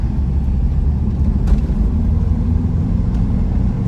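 A lowered, big-camber static car driving on three wheels gives a steady, loud, close low rumble of engine and road noise throughout, with no talking.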